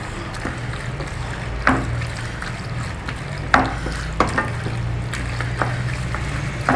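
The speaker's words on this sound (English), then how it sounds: "Now I am going to add in this drained pasta into this and give it all a good mix together" Drained pasta being stirred through masala in a pan, with soft scraping and occasional sharp clinks of a utensil against the pan over a steady low background hum.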